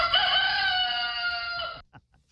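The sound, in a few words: rooster crowing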